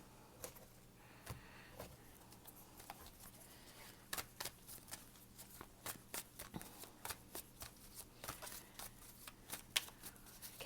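Tarot cards are shuffled close by, a run of irregular crisp riffling slaps and soft flicks, quiet between the sharper snaps, with no voices.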